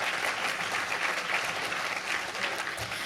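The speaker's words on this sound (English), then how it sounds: "please give yourself a round of applause." Round of applause from a banquet audience at a regional drug summit, even continuous clapping heard from within the room throughout.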